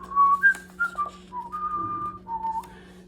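A person whistles a simple tune alone, several clear sustained notes rising and falling, some short and some held, close and moderately loud with a faint steady background hum.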